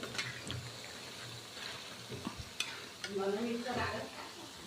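Moong dal bhajiya fritters with onion and red leafy greens sizzle in hot oil, a soft steady frying hiss with occasional stirring scrapes and clinks, close but quiet, no voices.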